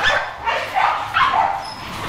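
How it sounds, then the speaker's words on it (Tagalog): Many dogs bark at close range, with overlapping yips and woofs coming in short bursts over a couple of seconds. "Sa sobrang daming aso dito, hindi na kami magkarinigan ni Kuya Peds."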